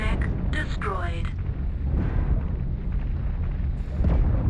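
A mech blows up in MechWarrior Online, a deep rumbling explosion that rolls on for several seconds beneath cockpit noise and short electronic blips.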